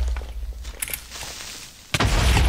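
A sudden loud boom of a creeper exploding in Minecraft erupts near the end after quieter game sounds and faint footsteps, its rumble continuing to the close.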